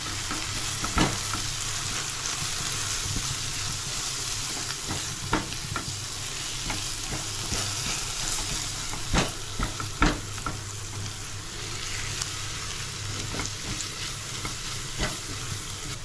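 Asafoetida and turmeric fry in hot oil in a pan while being stirred: a steady, close sizzle with scattered scraping clicks from the spoon throughout, no talking.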